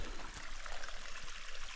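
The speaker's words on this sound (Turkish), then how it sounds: "Güzel bir şırıl şırıl akan bir deremiz var." A babbling stream flows outdoors, a steady close rush of water with no voices.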